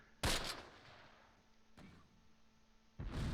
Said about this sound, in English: Ooh, that was an effective mortar.